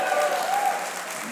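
A church audience applauding in a brief, steady burst of many hands clapping together, dense and fairly loud, filling the whole moment without a break.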